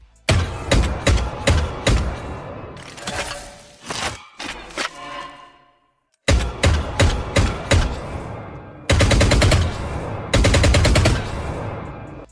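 Rapid bursts of video game gunfire from a Blackthorn weapon skin, sharp repeated shots in quick volleys separated by brief pauses, loud and close.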